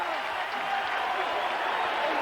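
Steady applause from a large stadium crowd at a 1989 Miami versus Wisconsin college football game, greeting Wisconsin's defense as it leaves a slick field; even, sustained clapping throughout.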